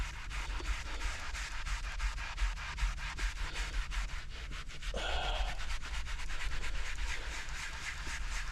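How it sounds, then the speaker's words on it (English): A magic eraser scrubs the upholstery of a seat pulled out of an Infiniti G35 during a deep clean, rapid close rubbing strokes in a steady back-and-forth rhythm, alone without speech. "right now I'm just using magic eraser"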